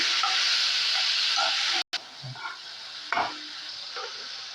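Tomatoes stirred into turmeric in a hot pan, a loud continuous sizzle that drops away after a brief gap, followed by intermittent scraping stirs over a quieter hiss.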